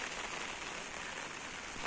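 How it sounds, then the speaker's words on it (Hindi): Steady, dense patter of rain drumming on an umbrella overhead, close and continuous with no pauses. "मेरा छतरी में बारिश हो रहा है वो सुनाई दे रहा है"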